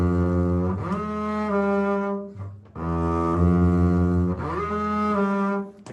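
Bowed string instrument playing sustained, harmonically rich notes, with a shift in which the up bow starts too soon so the pitch smears audibly between notes; three long bow strokes, close and fairly loud, without talking.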